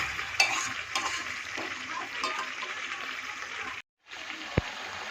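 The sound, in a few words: chicken and potatoes frying and being stirred in oil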